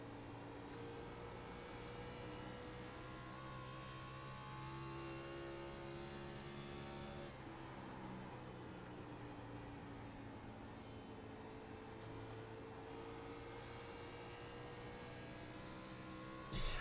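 Onboard race car engine at Dover in the iRacing game: a continuous steady engine drone with pitch rising and falling through laps, sustained and fairly close with no voices.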